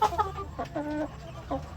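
White Leghorn hens clucking close by in short, uneven bursts, with a steady low background hum and no talking.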